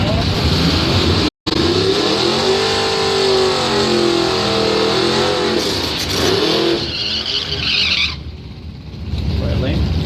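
Drag racing cars in bracket racing at Northern Michigan Dragway roar down the strip, engines revving loudly and rising in pitch, with an announcer talking over the noise.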